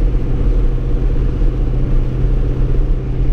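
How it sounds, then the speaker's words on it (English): A deep, steady Ford Mustang engine rumble, loud and close, with a throaty low growl that stays even throughout. "Sean, your car sound good, bro. It sound real good"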